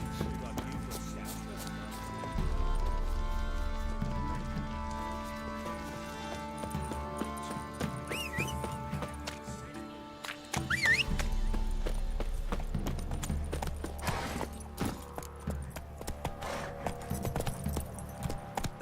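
Roach, a horse in The Witcher 3: Wild Hunt, trots along with steady clip-clopping hooves under game music, with occasional spoken voices.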